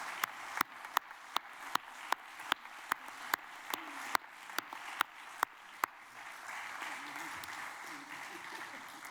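Applause from a congress audience closing a health and environment conference, with a run of sharp, loud individual claps standing out over a dense wash of clapping before it settles into a steady, softer patter.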